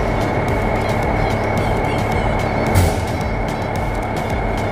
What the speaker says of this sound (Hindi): तो ये है इंस्पेक्शन ट्रेन इनकी, तो इंस्पेक्शन ट्रेन इंजन जो कि इस समय रेलवे ट्रैक पर खड़ा है।